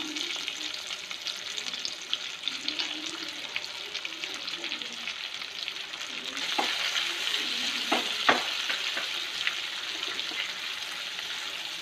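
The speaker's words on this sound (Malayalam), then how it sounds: "കുറച്ച് കറിവേപ്പില ആദ്യം ഇട്ട് കൊടുക്കാം. സവോള ഇട്ട് കൊടുക്കാം." Curry leaves and sliced onion sizzle in hot oil for a biryani gravy, a steady frying hiss that grows louder midway, with a few sharp clinks of stirring.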